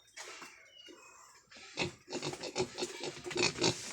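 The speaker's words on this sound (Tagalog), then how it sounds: "Kusog mo sisim ang baktin ko mga guys." Pigs grunt and oink in a backyard pen, faint snuffling at first, then a run of loud, close, repeated grunts that grows busier toward the end.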